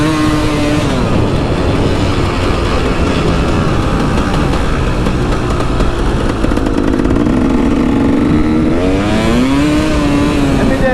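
Dirt bike lapping a flat track at a dirt park, its engine droning loud and close throughout, with the pitch rising and falling as the rider throttles through turns and accelerates.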